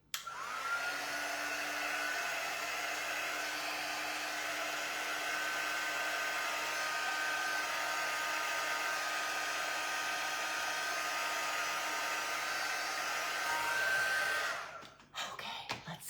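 A hair dryer blows a steady, loud whir for about fourteen seconds while drying a Highland cow's hair in a barn, then cuts off, leaving brief rustling.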